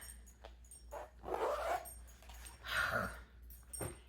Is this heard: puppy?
yes